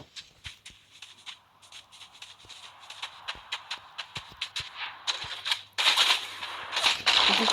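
Rapid bursts of gunfire from the video game Fortnite, a steady run of sharp clicking shots that thickens into a denser, louder volley toward the end, with no talk over it.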